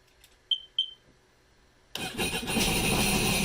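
A Sea-Doo Spark personal watercraft under repair, two short beeps and a pause before the engine cranks and catches, then settles into a loud, steady running roar.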